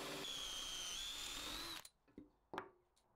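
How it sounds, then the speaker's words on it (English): A power drill whines steadily for nearly two seconds while drilling mounting holes in a new planer base, then stops, followed by a few clicks and knocks. "Then I can drill out the holes to get it mounted."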